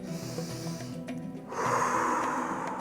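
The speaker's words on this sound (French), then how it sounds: "Prends le temps d'inspirer et d'expirer sans pause entre l'inspiration et l'expiration." Wim Hof-style deep breathing: a breathy exhale, then a stronger, louder rush of air as a deep inhale flows in without pause, close to the listener.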